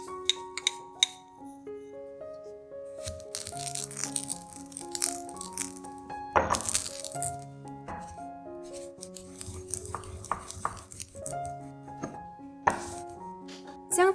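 Roasted sesame seeds are pounded and crushed with a series of irregular knocks and gritty grinding strokes, some sharper hits standing out, under steady background music.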